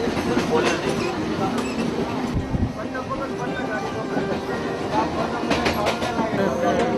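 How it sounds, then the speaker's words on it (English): A train rumbles and rattles as it gets moving near Nala Sopara station, with low mechanical clatter and bursts of noise, while people talk nearby over it. "The train starts."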